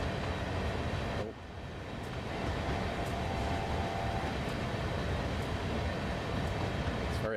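Train running in the video game Train Sim World 2, a loud continuous rumble of wheels and engine with a brief dip early on, then steady droning throughout.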